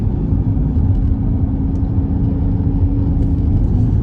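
Dodge Charger Scat Pack widebody driving on the road, heard from inside as a steady low engine rumble and drone with road noise, loud and continuous without any talk.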